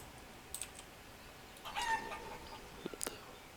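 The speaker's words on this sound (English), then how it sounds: "I have this massive freaking chicken coop. And 5 chickens." Chickens in a large coop in a forest village video game, a handful of faint, sparse clucks and short calls spread over a few seconds of quiet background.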